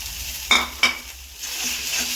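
Beaten eggs are stirred into a coconut mixture in a hot pan for Kollam-style egg thoran: a low sizzle with two sharp spoon clinks against the pan, then a brief scrape.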